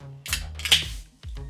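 A can of Hoplark hop tea is cracked open, giving a couple of sharp close clicks and a brief hissing burst, followed by a short metallic tap, with no talking.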